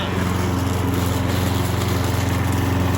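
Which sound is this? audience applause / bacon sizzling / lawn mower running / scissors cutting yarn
lawn mower running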